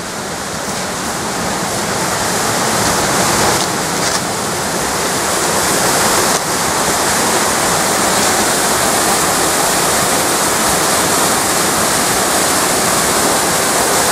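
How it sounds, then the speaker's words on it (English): Steady, loud roar of a waterfall on a hiking trail between Tsukigaseguchi and Iga, broadband rushing water filling the whole clip with no pauses. "there'd be a fair bit of water coming down"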